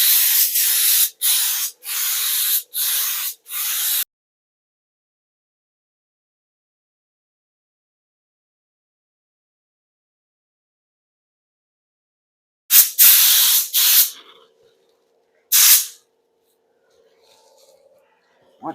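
A spray gun lays base coat paint onto a car bumper cover in several loud, close, hissing bursts, four in quick succession at first, then a pair and a single burst after a long silent pause.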